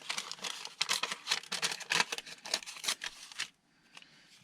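Paper being torn by hand into small ragged collage pieces while trimming hard edges off signatures: a close, steady run of rough ripping and crinkling bursts for about three and a half seconds, then near silence.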